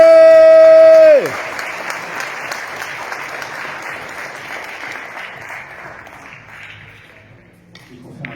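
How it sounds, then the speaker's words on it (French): A loud sustained horn tone cuts off and gives way to steady applause and cheering from a championship crowd welcoming Tanguy Turier of the Saint-Quentin club, continuing for several seconds before gradually fading. "Vos applaudissements, vos acclamations pour Tanguy Turier"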